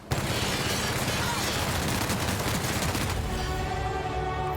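A heavy weapon in The Outer Worlds fires a sustained rapid burst, dense loud machine-gun-like fire that thins out near the end, with a voice briefly heard in the mix.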